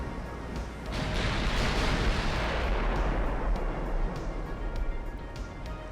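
A heavy, rumbling boom from battleship guns rolls out and slowly decays in the naval video game Ultimate Admiral: Dreadnoughts, with smaller distant shots ticking behind it.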